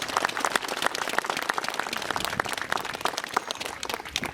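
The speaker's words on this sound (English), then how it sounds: "can we give them a round of applause, please?" A round of applause for a school art department after a St George's Day parade, many separate hand claps near and far forming a lively, uneven crackle that continues the whole time.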